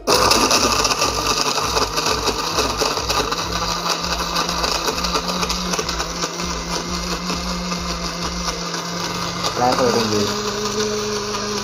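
A Cosmos CB282G blender whirs loudly while blending mango, water and sugar, its motor steady with a pulsing low chop at first, then shifting pitch near the end; a person speaks briefly over it.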